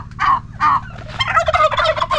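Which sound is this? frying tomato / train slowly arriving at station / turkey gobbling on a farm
turkey gobbling on a farm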